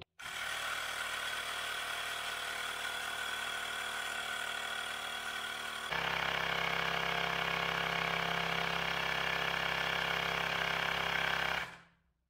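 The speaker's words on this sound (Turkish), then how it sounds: "Bu cihazı çalıştıracağım. Bakalım ne kadar zamanda lastik sıfırdan şişecek." A Xiaomi Mijia electric air pump inflates a tire from flat, running as a loud, continuous buzzing drone for about eleven seconds. It shifts to a deeper, heavier tone partway through and then cuts off abruptly.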